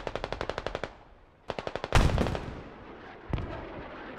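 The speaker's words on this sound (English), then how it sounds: "Another barrage coming in." Squad battle audio: rapid bursts of nearby automatic gunfire, then a heavy explosion from an incoming Grad rocket barrage with rolling rumble, followed by another blast and more shooting.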